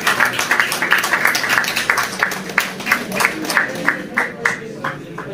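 Audience applause for a guest at the All Kashmir Car Cup 2023 award ceremony held by a pigeon sports club: a steady run of crowd clapping with soft, rhythmic pulses, and a voice speaking over it.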